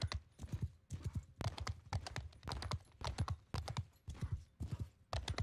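Cavalry horses gallop in the multiplayer video game Mount & Blade II: Bannerlord, producing rapid, rhythmic hoof clip-clops in repeated bursts that are close and fairly loud throughout, with no talk.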